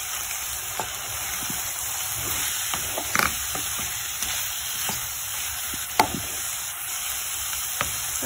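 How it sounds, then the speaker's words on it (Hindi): Chopped tomatoes stirred into sizzling masala in a pan give a steady close frying sizzle, broken by scattered clinks and scrapes of a spoon against the pan. "जो हमने टमाटर रखे हुए थे काट के वो डाल देंगे और इसे अच्छी तरह से हिला देंगे"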